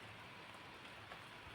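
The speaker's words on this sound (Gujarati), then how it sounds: "વરસાદ થઈ ગયો છે ચાલુ" Steady rain falls outdoors as an even, faint hiss of drops on surfaces, continuous from start to finish with no voices.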